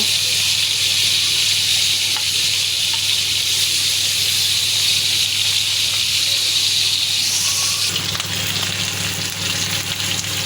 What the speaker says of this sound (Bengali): ভালো করে এপাশ ওপাশ ভেজে নেব ঠিক এভাবেই ভালো মতো ভেজে নেব